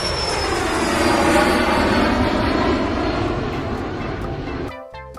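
A loud jet engine roars steadily and close, a broad rushing drone with a thin high whine, tapering off near the end.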